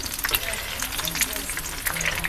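Batter pieces sizzle and crackle steadily in a hot pan as they are turned one by one, with a few soft scraping clicks from the flipping.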